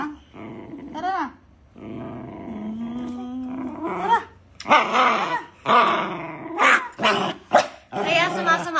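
Several dogs growl and bark in bursts, close and loud, with a person talking between and over them.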